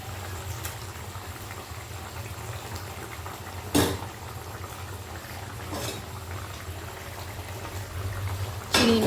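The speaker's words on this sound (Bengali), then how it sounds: "ঝোলটা কিন্তু খুব ভালোভাবে ফুটে গিয়েছে" Prawn curry gravy boiling in a pan, a continuous low bubbling simmer close by, broken by a few sharp clinks of utensils against the pan, with no talking.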